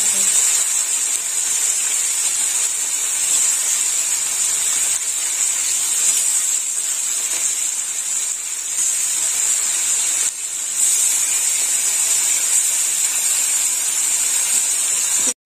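Fish fry hard in hot mustard oil, giving a steady, loud, close sizzling hiss that barely changes over a long stretch, with only a brief dip partway through.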